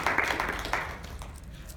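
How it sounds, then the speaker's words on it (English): Audience members give a presentation speaker a short round of applause, a modest patter of clapping that fades quickly into quieter room noise. "Ladies and gentlemen, one more round of applause"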